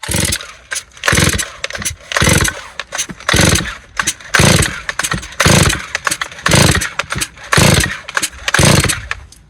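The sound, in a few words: chainsaw being pull-started on choke, Husqvarna 136 or Stihl 023c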